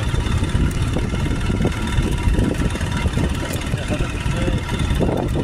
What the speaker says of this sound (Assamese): এনে বাইক স্কুটি অহা যোৱা কৰি আছে